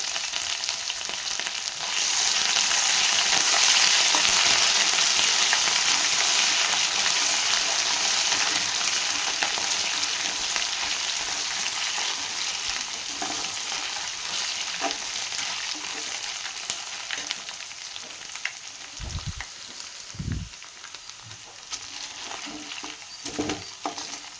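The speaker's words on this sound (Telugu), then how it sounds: "ఇదిగోండి అల్లం వెల్లుల్లి పేస్ట్ అండి, 1 స్పూన్ వేసానండి." Ginger-garlic paste sizzles steadily in a pan for a bottle gourd kurma curry, a loud broadband frying hiss that fades slightly over time, with a few low thumps near the end.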